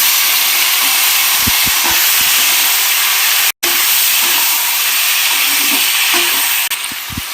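Chopped tomatoes go into hot oil with curry leaves for South Indian tomato rice, setting off a loud, continuous hiss and sizzle heard close up, with a few soft stirring knocks and a brief break midway.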